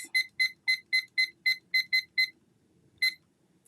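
A timer alarm beeps in a quick run of nine evenly spaced electronic chirps, then pauses and gives one more, crisp and close in an otherwise quiet room without voices.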